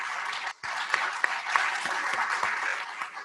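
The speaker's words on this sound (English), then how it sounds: "a huge round of applause for Nancy Clifton Hawkins" Audience at a mental health symposium breaks into sustained applause, a dense wash of clapping that drops out briefly near the start and then continues steadily with a few sharper claps standing out.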